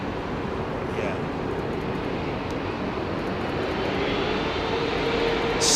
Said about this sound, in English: Start the takeoff roll.